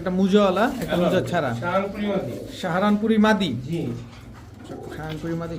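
Pigeons in a cage or loft, including Pakistani teddy and Kamargar breeds, cooing in repeated rolling bursts close by, overlapping with talking voices throughout.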